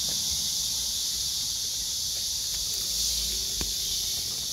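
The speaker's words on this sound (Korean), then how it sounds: "말매미 소리가 많이 나긴 하지." Cryptotympana cicadas singing in summer, a loud continuous high-pitched buzzing drone that fills the whole stretch, with faint rustling and a soft tap close by.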